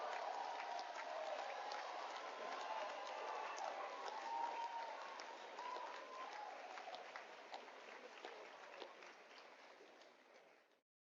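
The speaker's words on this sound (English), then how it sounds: "Have you ever received so much applause?" A large crowd at a university white coat ceremony applauding steadily from a distance, the dense clapping sustained and gradually fading out at the end.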